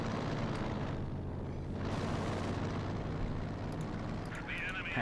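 A Katyusha rocket barrage in Company of Heroes 2 rolls out as a dense, sustained rumble of launches and explosions, loud and continuous, with a hiss of rockets near the end.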